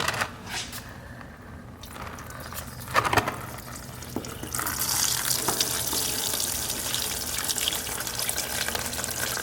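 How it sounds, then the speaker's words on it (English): Coolant drains from a heat exchanger pump in a steady, close, trickling and splashing pour that grows fuller and louder partway through, with a few brief knocks early on. "we're gonna drain all the coolant"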